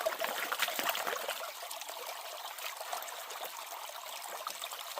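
Water swirling and trickling in a blue gold pan while panning sluice material, a soft continuous splashing and dribbling, close and fairly quiet with no talk.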